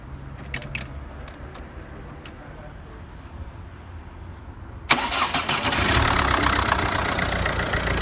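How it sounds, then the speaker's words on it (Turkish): A Ford 1.6 TDCi diesel engine cranks in cold weather after a fuel filter change, then fires at about the midpoint and settles into a loud, steady, close running clatter after a quieter stretch of faint background noise. "Evet, gördüğünüz gibi motor çalıştı."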